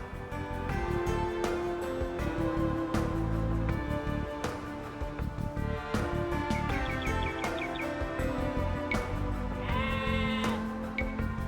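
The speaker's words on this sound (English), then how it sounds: "villagers can herd sheep or hunt deer for food" Sheep bleating in the Age of Empires 2: Definitive Edition video game, repeated bleats layered over a dense, loud mix of game music and ambient effects.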